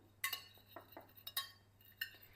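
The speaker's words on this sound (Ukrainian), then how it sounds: "Потім додаємо оливкову олію. Так, мішаємо." A utensil stirs potatoes dressed with olive oil and a little sauce in a long dish. It gives several light, separate clinks and scrapes, quiet and close, with no talking.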